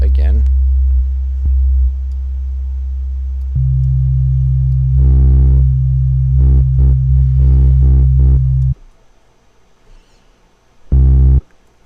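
A deep dubstep sub bass synth built in Reason drones loud and low, stepping up in pitch partway through, with short buzzy harmonic bursts and a wobbling pulse before it cuts out, then a brief final low hit.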